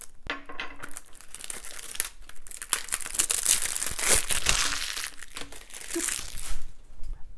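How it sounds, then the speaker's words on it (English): Loud, continuous crinkling and tearing of plastic wrap being stripped from a limited-edition Switch game box, crackling up close in dense bursts for several seconds with no talking. "Let's start with getting rid of all this plastic."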